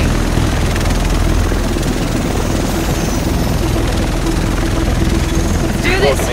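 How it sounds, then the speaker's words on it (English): A helicopter in the video game Tom Clancy's The Division approaches with a steady, loud rotor thrum and engine drone that fills the whole scene. "Here it comes. The rest of us should be in this chopper."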